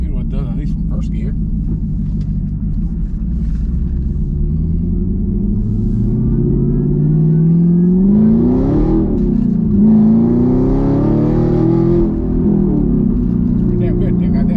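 Whipple supercharged Camaro accelerating hard in first gear in traffic, a loud rumbling engine with a rising supercharger whine that climbs steadily through the pull, heard from inside the car with no talk.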